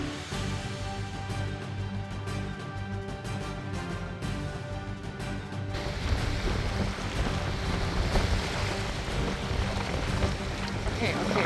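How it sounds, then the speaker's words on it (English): Strong wind buffets a small boat stuck on mud, a loud continuous roar of wind and water noise that grows rougher and denser in the second half, with no clear talk. "The wind is so strong it just pushes this boat around like it's a feather."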